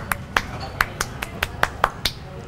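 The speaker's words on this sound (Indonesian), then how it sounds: "Gue tepuk tangan dulu ya." A single person claps hands at a food stall in Tebet, Jakarta, about nine crisp, evenly spaced claps over a low murmur of background noise.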